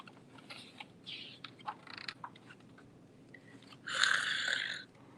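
A voice imitates the snoring of a sleeping mole in a preschool storytime, with soft breathy snorts and clicks building to one loud, rasping drawn-out snore near the end.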